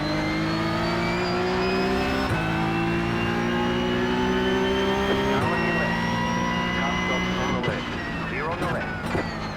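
A race car's engine in a racing video game at Bathurst drones loud and steady, rising in pitch as it revs through gears, with brief shifts and a rougher stretch near the end.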